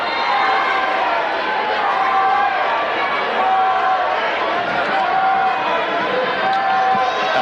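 Dense crowd noise fills a packed high school basketball gym during a Gate City versus Powell Valley game, a loud steady roar of chatter and shouts with a commentator talking over it throughout.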